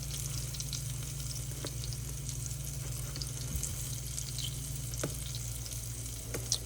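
Honey glazed chicken cutlets fry in a pan with a steady, close hiss and sizzle. Faint pops and crackles rise now and then over a constant low hum.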